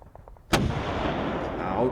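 Units firing on sappers dug into trenches in the Panzer Campaigns Kharkov 42 war game, heard as a single loud, sharp artillery-style blast with a long rumbling tail after a few faint ticks.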